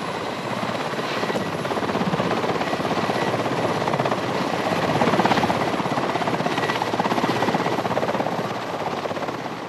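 A helicopter on a Siberian tiger capture mission in snowy terrain, its rotor and engine producing a loud, steady thudding roar throughout with no voices.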